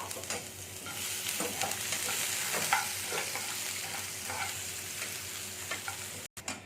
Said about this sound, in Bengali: সেই পেঁয়াজগুলোকে আমি দিয়ে দিচ্ছি পেঁয়াজটাকে একটু ভেজে নেব